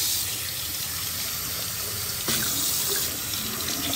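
Water runs steadily from a bathroom tap into a sink, a close, continuous hissing stream with a slight shift in flow partway through and no voices.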